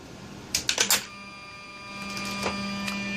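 Electronic throttle bodies from a Mercedes SL600 actuate on bench power, with three quick close mechanical whirs followed by a faint later one, over a steady electrical hum.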